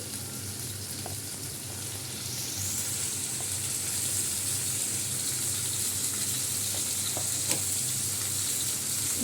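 Garlic dropped into hot oil already holding panch phoron and green chili: a continuous close frying sizzle that swells a few seconds in and then holds dense and even, with faint clinks and no voices.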